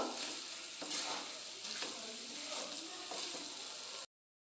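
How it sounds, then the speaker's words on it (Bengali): A spoon stirs banana flower curry with rohu fish roe and potato in a frying pan, a soft, steady sizzle with faint scraping strokes, fairly quiet and close, with no talking. "আবারও একটু নাড়িয়ে নেব"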